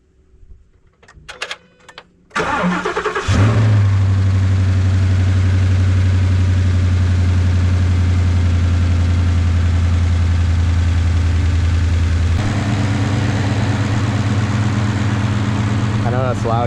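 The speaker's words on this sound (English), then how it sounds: "Now I'm going to go ahead and start it." Ford F-150 with a 5.0 engine cranks briefly, fires up loudly and settles into a steady, rumbling idle close to the microphone, with the tone shifting slightly partway through.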